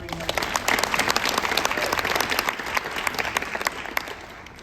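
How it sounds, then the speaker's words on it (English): Steady, full applause fills a volleyball ring ceremony, with many hands clapping densely and fairly close for several seconds before tapering slightly at the end. "we'll give him a round of applause"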